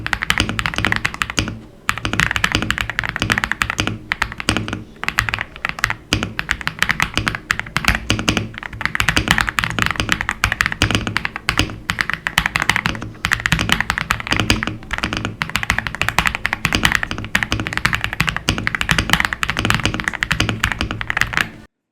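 Continuous typing on a Lingbao K87 aluminium-bodied gasket-mount mechanical keyboard, close and steady keystrokes with deep thocky taps, a brief pause near the start and fast rhythmic bursts to the end.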